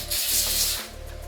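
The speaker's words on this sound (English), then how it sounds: "I'm going to spray in a spray foam, the volumizing foam" A couple of short, close sprays of volumizing hair foam hiss out about two inches from the scalp, with a brief pause between bursts, followed by a softer rubbing sound.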